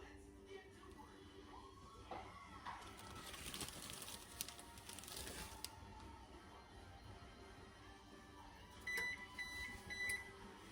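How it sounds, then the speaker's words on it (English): An oven beeps to signal it has finished preheating while an apple cobbler is being assembled in a home kitchen, a few short high tones near the end over background kitchen noise and faint talk. "That's my oven telling me it's hot."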